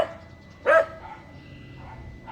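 A single short dog bark rings out in a Philippine street, one clear burst amid quiet background noise.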